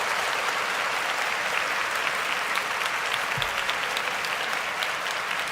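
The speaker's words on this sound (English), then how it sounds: "Clap it up for Dominic Pooney out there." Steady applause fills a sports talk segment about the 49ers and Lions. The crowd claps at a constant, moderate level throughout with no break.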